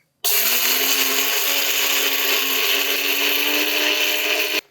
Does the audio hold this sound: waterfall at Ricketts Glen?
no